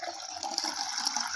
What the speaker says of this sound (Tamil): இப்போ இதுக்கு நம்ம தேவையான அளவுக்கு தண்ணி சேர்த்துக்கலாங்க.